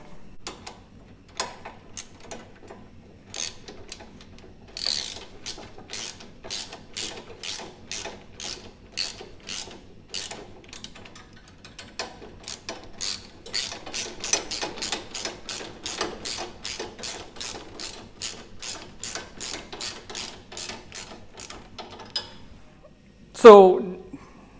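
A ratchet wrench with an 8mm Allen socket tightens pannier rack bolts on a 2016–2017 Honda CRF1000L Africa Twin, giving long runs of crisp close clicks in quick rhythmic bursts, with a louder clunk near the end.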